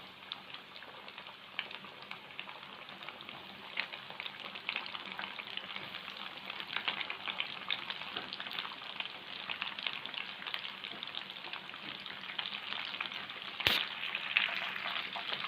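Masala finger fish deep-fries in oil for a lahori-style fish fry, producing a steady, dense crackling sizzle that runs unbroken throughout and is broken once by a sharp short knock.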